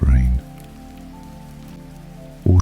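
Gentle rain falling in a soft, steady patter on a surface, with a couple of brief louder bursts at the start and end.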